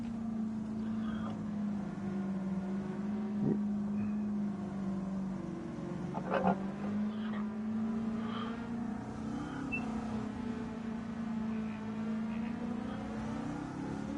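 An engine-swapped 811 hp race car in Gran Turismo 7 drones with a steady, loud engine note and shifting pitch throughout, with a few brief clicks and knocks over the top and no talking.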